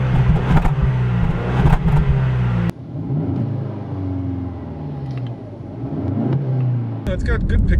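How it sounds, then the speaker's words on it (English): A 2018 Jaguar E-Pace four-cylinder turbo SUV engine revs up under a few blips of throttle, a moderately loud, close growl rising and falling, with voices talking over parts of it. "give it a little bit of the gas. I want to get some exhaust note."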